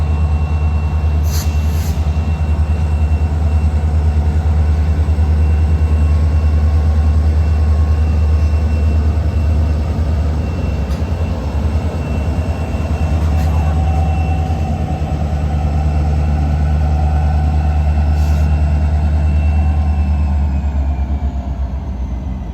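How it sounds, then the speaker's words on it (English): Two CPKC locomotives shove a long cut of freight cars back into a rail yard on a foggy morning, a deep steady diesel rumble with a low droning hum, loud and continuous throughout, no voices. "This pair of Jeeps is working hard, shoving a long cut of cars back into the yard before disappearing into the morning fog."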